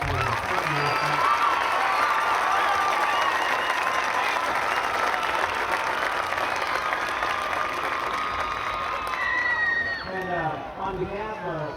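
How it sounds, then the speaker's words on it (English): An audience at a high school music festival gives loud applause and cheering for a college band, a dense sustained roar of clapping and shouts that fades near the end as whistles and voices carry through. "So another round of applause for them."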